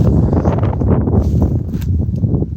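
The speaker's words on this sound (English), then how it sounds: "but it'll be blustery, so excuse the wind noise a minute." Blustery outdoor wind buffets a microphone during a metal detecting outing in the UK, a loud, constant low rumble with gusty fluctuations lasting the whole moment.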